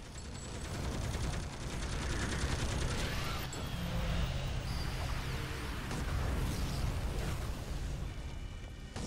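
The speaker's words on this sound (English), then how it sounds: "Start shooting." Continuous video game gunfire in a solo boss fight against the Pandia Corruptor, dense and loud throughout with steady booming bursts and layered effects, no pauses.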